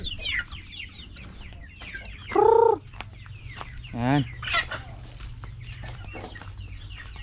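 Free-range chickens cluck and squawk close by in a yard, with a couple of loud, drawn-out calls standing out over a low background of softer clucking, and a person speaking briefly.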